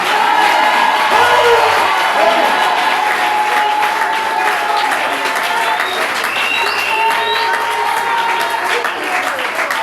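A church congregation bursts into sustained applause and cheering, dense clapping with whoops and shouts filling the room throughout, voices mixed into the crowd noise.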